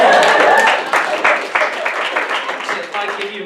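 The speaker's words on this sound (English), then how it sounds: "round of applause for Paul." A comedy club audience bursts into applause, a dense wash of clapping with cheers and voices mixed in that starts loud and gradually thins out.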